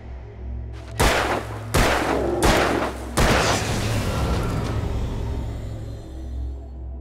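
Four heavy gunshots ring out in Alan Wake, spaced about a second apart, each loud and close with a long echoing tail over a low droning background.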